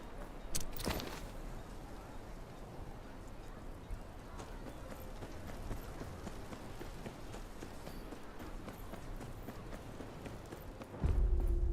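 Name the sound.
horse hooves clip-clopping in Game of Thrones video game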